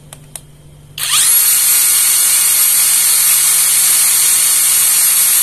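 A Modern M65 impact wrench spins up in the tightening direction after a couple of faint clicks, then runs at a loud, steady high-pitched whine for several seconds.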